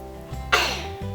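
A single sharp sneeze bursts out indoors at home over a low steady hum, loud and close, with a brief breathy tail.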